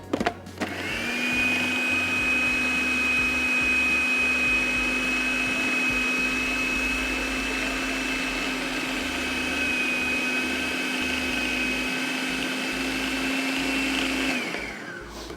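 A kitchen blender grinds boiled chickpeas into a thick paste, a loud steady whirring motor that starts abruptly, holds an even pitch close by for about fourteen seconds, then winds down and stops.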